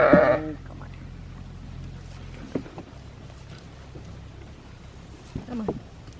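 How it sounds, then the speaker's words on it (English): A sheep on a farm lets out a short, close bleat at the very start, followed by quieter rustling and a second brief, muffled cry near the end. "That's a healthy sheep."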